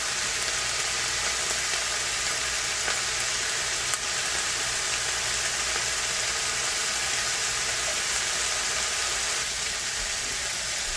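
Vegetables for fried rice fry in a pan with a steady, broadband sizzle that stays even and close for about eleven seconds, with no voices and only a faint click or two.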